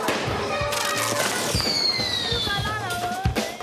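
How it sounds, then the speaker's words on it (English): Fireworks set off by kids in the Medina pop and crack in quick irregular bursts, with whistling streaks rising over a noisy street, some bangs close and sharp, others farther off, and voices in the background. "Kids are setting off fireworks in the Medina."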